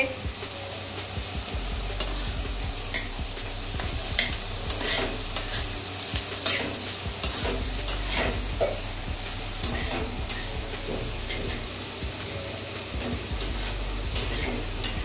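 Potatoes fry and sizzle in a pan while being stirred, a steady hiss broken by frequent scraping clicks of the spatula, heard up close in a home kitchen with faint voices in the background.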